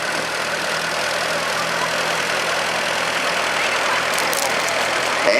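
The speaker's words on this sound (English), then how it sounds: "Followed by a 1954 Farmall Super A1, driven by Steve Fisher, with Justice Fisher" A 1954 Farmall Super A tractor rolls by in a town parade, its engine a steady, loud broadband chug that stays constant throughout with no talk over it.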